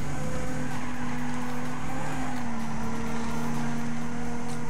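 Race car engine from the video game Trackmania 2 Canyon, a steady sustained drone with a constant pitch and faint tire noise, running continuously at a loud level with no voices.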